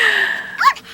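A dog gives a short, yippy bark or whimper close by, cutting off a sustained tone that comes just before it.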